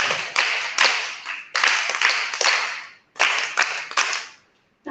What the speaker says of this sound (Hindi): ताली में तो थोड़ी कंजूसी की हो,